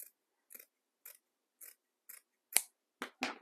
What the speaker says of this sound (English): We're going to cut this excess off.